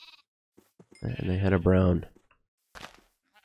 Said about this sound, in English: Come on over here, sheep.